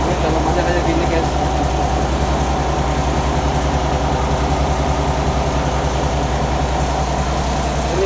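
A fish pellet machine's crusher runs with a steady droning engine hum and a low mechanical rumble, continuous and close throughout.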